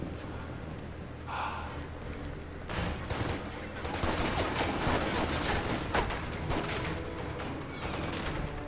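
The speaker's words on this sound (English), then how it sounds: "I'm getting tired of you guys shooting at me." Rapid gunfire crackles in the John Woo video game Stranglehold, starting after a quiet moment and continuing as dense, overlapping bursts of shots at a loud, sustained level.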